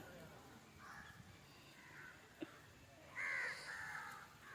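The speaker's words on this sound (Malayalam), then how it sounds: "കാക്കയും പരുന്തും പെറുക്കിക്കൊണ്ട് പോവുകയാണ്." Crows caw at the Tanur fishing harbour, where fish are spread out to dry, with a few calls and a louder burst near the end, heard at moderate distance amid open-air background noise.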